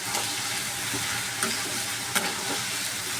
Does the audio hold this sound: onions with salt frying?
yes